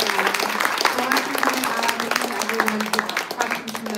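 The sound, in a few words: audience applause after a talk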